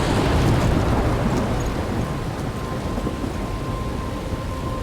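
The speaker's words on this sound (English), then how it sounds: "I'm trapped in a storm?" Thunderstorm in the video game Life is Strange, with a loud steady roar of heavy rain and rumbling thunder that stays dense throughout and eases only slightly after the opening moments.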